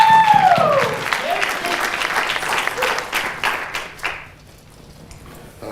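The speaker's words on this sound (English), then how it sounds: "Give yourselves a hand clap for coming out tonight." Applause from a community discussion audience, dense clapping with a few voices and whoops on top, thinning out and fading to near quiet after about four seconds.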